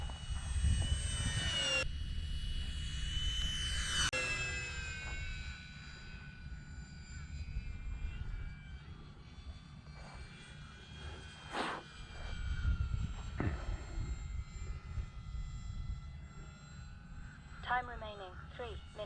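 E-flite 1.2 m P-51 radio-controlled model plane flying at Eastgate Park in Dothan, Alabama; its engine whine rises and falls as it makes passes, moderately loud, under intermittent talk from a nearby person.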